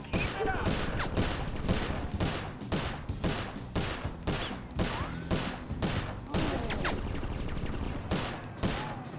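Enemy gunfire in the video game Sly Cooper: Thieves in Time, a dense, continuous run of rapid shots with repeated short bursts layered over game sounds, steady and fairly loud throughout.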